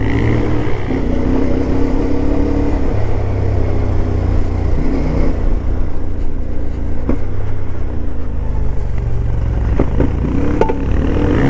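CF 450 MT motorcycle ridden off road in the Serra da Freita mountains: a loud engine revving and surging in waves, with clattering and bumps over rough ground.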